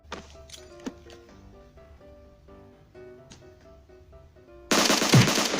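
Gunfire in the mobile battle-royale game PUBG Mobile erupts as a sudden, loud, dense burst near the end, after several seconds of quieter tonal game sounds and light clicks.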